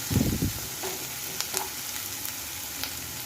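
Onion sautés in a frying pan as part of a Ramadan snack made with buns, a steady close sizzle with a brief louder stirring scrape at the start and faint clinks later.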